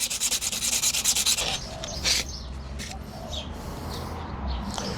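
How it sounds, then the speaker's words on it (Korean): Sandpaper rubbed by hand over a scratched car wheel rim, a rapid rhythmic rasping burst at the start followed by lighter intermittent scuffs, close, with faint bird calls in the background. "샌딩을 해서 자, 이렇게 깎아내는 겁니다"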